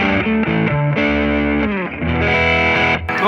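A Schecter Reaper 6 electric guitar with humbucker pickups plays a short bluesy phrase with an overdriven, slightly chorused tone, close and alone.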